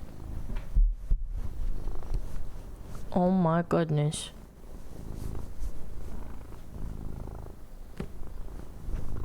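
A contented pet cat purrs close by, a soft steady rumble running through the whole stretch, while someone speaks over it in bursts.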